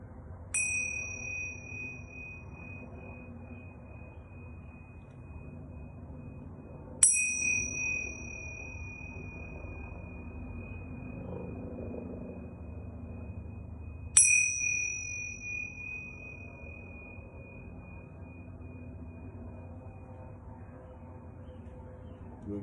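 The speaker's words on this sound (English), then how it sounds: "I'm going to ring these yoga bells 3 times." Yoga bells struck three times at even intervals, each a clear bright ding ringing out with a long sustained fade over a quiet room.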